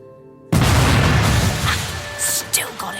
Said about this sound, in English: Explosion detected in Sector 3, ma'am.